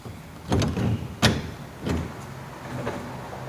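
Rear door of a model 202 dry cargo truck container, lockable, opened from the left side: a few sharp metallic clunks and latch knocks spaced apart, with a faint rolling scrape between them.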